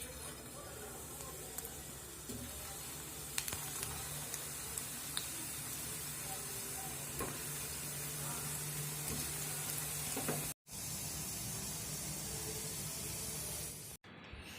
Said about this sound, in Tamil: இப்போ எண்ணெயில் போட்டு எடுத்துடலாம்.